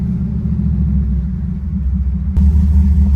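A 1979 Malibu with an LS engine swap idles with a deep, steady exhaust rumble, which swells louder for the final second as the throttle opens. No one speaks.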